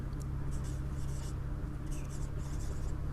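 Chalk or marker scratching on a classroom board during a botany lesson on white rust disease of crucifers, a steady faint scraping with short strokes over a low room hum.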